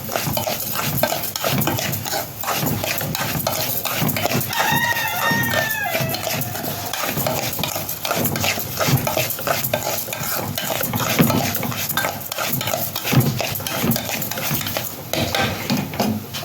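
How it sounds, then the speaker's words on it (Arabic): Red rice for fish is stirred steadily in a pot, with continuous scraping and rustling throughout and a brief faint chirping in the background partway through. "نفضل نقلب على طول اهو"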